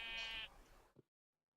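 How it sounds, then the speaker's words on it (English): Sheep bleating in a block-building video game, one short nasal bleat up close, clear and alone before cutting to silence. "Oh, hello, sheep."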